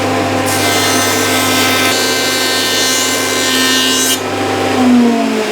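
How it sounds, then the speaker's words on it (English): Thickness planer skimming a piece of mahogany, a steady loud machine drone with a broadband cutting rush that holds for several seconds, then drops back to the motor's hum. "Just one quick skim through the planer and that'll be good to go."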